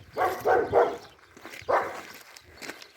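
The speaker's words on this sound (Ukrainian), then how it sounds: "А тут є така ух, собака." A dog barks a few times at close range, three quick woofs followed by a later single bark, outdoors at a rural homestead with some quieter shuffling between.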